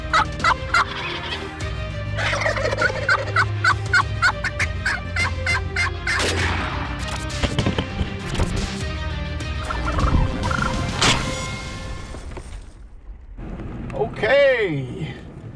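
A hand-held turkey call imitates a wild turkey's gobble, with loud rapid yelps and clucks at close range, then a final rising gobble after a short pause, amid wind noise and some outdoor hiss.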